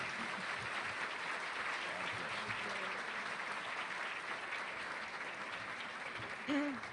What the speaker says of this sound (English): welcome her with a stirring round of applause